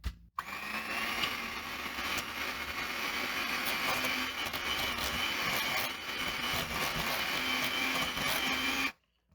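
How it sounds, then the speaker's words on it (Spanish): A hand mixer on speed 1 whirs steadily, beating butter for several seconds, a constant motorized drone with faint scraping, starting and stopping abruptly. "con la batidora de mano a velocidad 1 vamos a batir"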